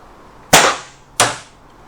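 Two air rifle shots fired at target plates: each is a sharp, loud crack with a short ringing decay, the second coming about three quarters of a second after the first, close and alone.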